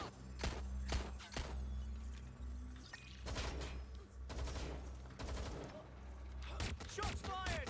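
Bursts of video-game gunfire ring out in Watch Dogs: Legion, several sharp volleys spaced through the scene, mixed with shouting voices and background game sounds.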